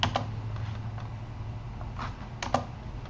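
Computer keyboard being typed on in short bursts, crisp close key clicks in irregular clusters over a quiet room hum.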